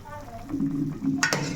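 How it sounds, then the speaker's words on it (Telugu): A fish tamarind stew bubbles in a pot with a close, soft simmering sizzle. A few sharp clinks of a utensil against the pot come near the end. "చక్కగా మరుగుతుంది"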